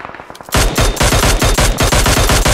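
Rapid automatic gunfire in an online shooting video game, a loud, dense burst of close shots that starts after a brief lead-in of lighter clicks and carries on to the end.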